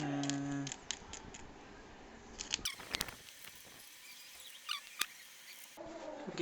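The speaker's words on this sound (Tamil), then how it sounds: "ஏற்கனவே பழையசெல்லாம் ஒரு சும்மா ப்ளேடு வச்சு லைட்டாக மீளோட்டு சுரண்டிடணும்." A blade scrapes old white marking off a vehicle tyre in light, close, scratchy strokes with small clicks and ticks, and no one talks.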